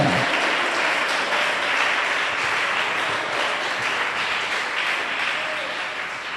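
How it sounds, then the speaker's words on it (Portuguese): A church congregation applauds during a sermon, a full, even roar of clapping that carries on for several seconds and fades slightly toward the end. "Se isso é verdade, aplauda Ele"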